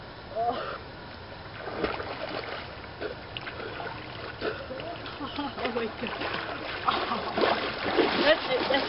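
Someone wades into freezing water on a 55-degree day, producing irregular nearby splashes and sloshing bursts that grow busier toward the end, with a voice speaking briefly over the water.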